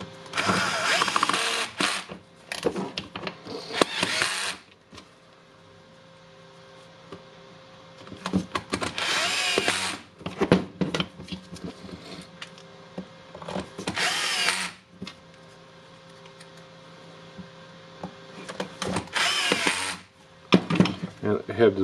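A Makita DGA505 brushless angle grinder under repair runs in several loud bursts of a few seconds each, with quieter gaps between them where someone talks.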